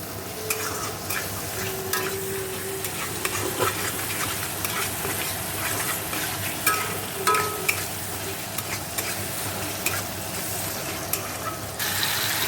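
Salt, turmeric and a little sugar sizzle steadily with spices in a frying pan, a spoon stirring and scraping through them in continuous close strokes, with no voices.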